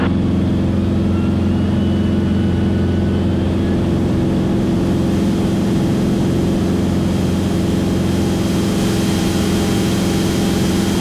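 A small propeller airplane's engine drones steadily at full power through a short-field takeoff climb, a loud, constant low hum with tonal harmonics heard from inside the cockpit, no voices.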